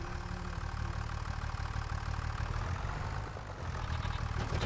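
Tractor engine idling in the Farming Simulator 25 video game, a steady low rumbling drone that holds throughout with a brief dip, no talk over it.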